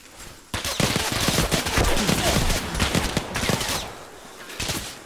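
Machine gun fire in ArmA erupts suddenly after a brief pause, a dense, loud stream of rapid shots with short breaks between bursts, rattling for several seconds before tailing off.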